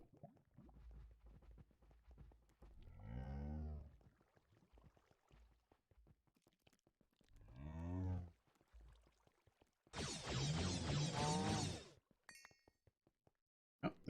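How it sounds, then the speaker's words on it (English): A cow in the video game Minecraft moos three times, each call a drawn-out, fairly close low lowing, the last one brighter and louder, separated by quiet clicks and game noises. "You're mooing."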